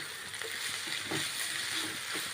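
Vegetables and half a capsicum being sautéed in a pan for noodles, a soft, low frying hiss with faint stirring scrapes and light sizzles.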